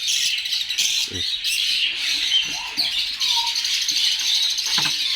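A room full of birds squawking and chirping continuously, harsh overlapping calls close by with no pauses.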